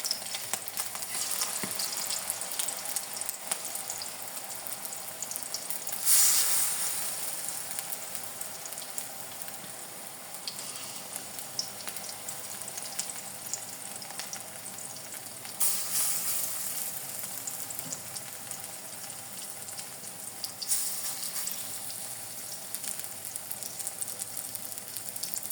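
Cabbage pakoras deep-frying in hot oil over low heat, a dense, continuous close sizzle with crackling bubbling that swells a few times, steady throughout with no speech.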